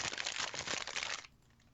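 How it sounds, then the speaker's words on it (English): A played rustling sound effect gives a dense, crinkly burst of papery crumpling for about a second, fairly close and steady, then cuts off to near silence. "look somewhere on the interwebs for a rustling sound effect that I can just play for you"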